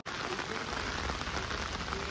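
Steady rain falls in a broad, even wash during a monsoon outing at Rankala lake, pattering on surfaces close by with no pause and no one speaking.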